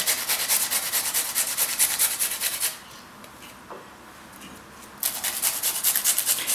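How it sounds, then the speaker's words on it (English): Fresh ginger and garlic are rubbed against a grater in quick, even rasping strokes, close by, pausing for a couple of seconds midway before resuming just as briskly. "some grated ginger and garlic,"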